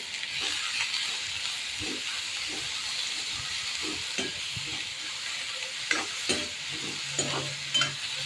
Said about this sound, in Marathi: कांदा टाकल्या आता फ्राय करायला